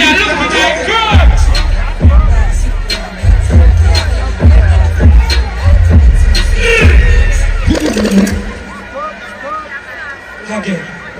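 A dense concert crowd at a show roaring and chattering, with heavy bass thumps pulsing underneath and someone speaking loudly over the noise.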